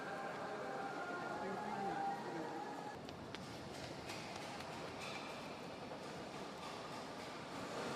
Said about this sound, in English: We're gonna go for a ride in the metro.